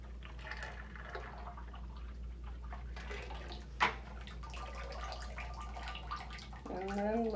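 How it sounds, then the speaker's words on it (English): Lye solution pours into a soap-making mix for goat's milk honey oatmeal cold process soap, a faint liquid trickle and drip with clinks, recorded quietly beneath a steady low hum. "now let's add in our lye."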